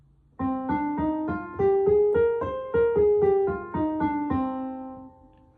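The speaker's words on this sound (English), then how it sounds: "C natural minor sounds like this." A single melodic instrument plays a stepwise ascending then descending C natural minor scale, each note struck separately in even rhythm, clear and alone.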